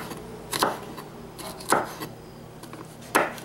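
Seasoning pepper being chopped with a knife on a board for a shrimp dish, three sharp, evenly spaced chops close up with quiet pauses between them.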